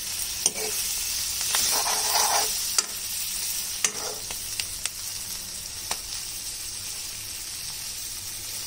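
Green chillies fry in a pan for mirchi masala made with leftover curry. A steady, moderate sizzle runs under a series of sharp spatula scrapes and taps at irregular moments, close by and without speech.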